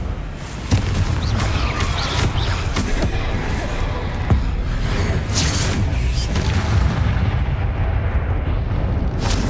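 A Confringo fire-spell blast booms in Hogwarts Legacy, one burst of many amid continuous rumbling combat with crackling impacts and a sharp hit near four seconds, loud and close.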